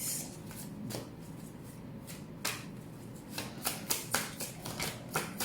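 Tarot cards being shuffled close by, with soft continuous riffling and a series of sharp papery slaps and flicks growing more frequent toward the end.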